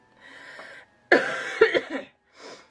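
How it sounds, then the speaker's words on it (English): A person coughs a few times close to the microphone: a soft throaty cough, then a louder harsh burst of two or three coughs, and a brief final cough after a pause. "I've got this cough."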